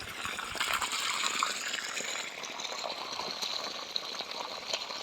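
Borewell water gushing out in a steady, continuous rush, a dense unbroken hiss of flowing water with no pauses, fairly close and alone without voices.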